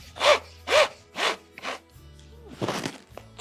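Telescopic sections of a water-fed cleaning pole slide back inside one another, giving five close scraping rubs in quick succession, with a rougher sliding scrape at the end.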